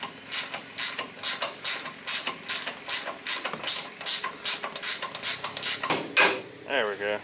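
A hand ratchet bolts the outer tie rod back onto a race car, with the wheel still on: a close, steady run of sharp clicking bursts with brief pauses, ending in a slower rattling spin.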